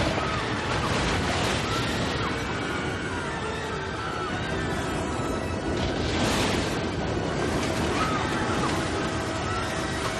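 Seawater surging in and flooding Fenway Park in an apocalyptic climate disaster, a continuous close roar of waves and rushing water with heavier surges rising and breaking again.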